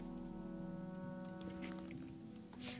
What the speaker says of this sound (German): Und jetzt regnet es und wird dunkel.